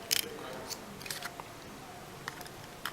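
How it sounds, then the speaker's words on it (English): Battery being pulled from a GoPro Hero 4 camera, a few small close clicks and plastic snaps scattered over a quiet background. "So what I'm gonna do is take the battery out."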